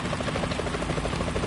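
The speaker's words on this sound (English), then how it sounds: "Is that a chopper I just heard?" A helicopter in the video game Metal Gear Solid 2 hovers with a steady, loud rotor thrum and buzzing chop that continues without a break, with no voices over it.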